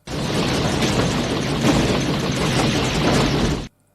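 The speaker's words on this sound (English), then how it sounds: "lots of explosions" A loud, continuous roar of explosions from the 1990 action sci-fi film Dark Angel, dense booming blasts filling several seconds before stopping abruptly.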